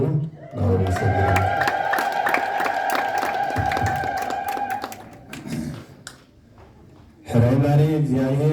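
A church congregation ululates together in celebration, a loud, sustained, high trilling chorus lasting several seconds before fading into murmurs, and then a voice resumes speaking.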